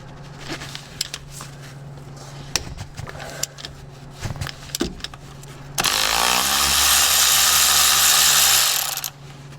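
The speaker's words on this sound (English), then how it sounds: "So I'm going to go around and loosen all these axle bolts on both sides" A ratchet wrench clicks in short uneven bursts while loosening axle bolts on the front differential of a 2007-2013 Chevrolet Silverado 1500, followed by a loud, steady whirring power tool running for several seconds.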